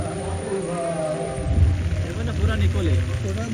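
Rain falls on an outdoor meal and spatters onto a camera, a steady wet patter with low rumbling thumps, while people talk over it.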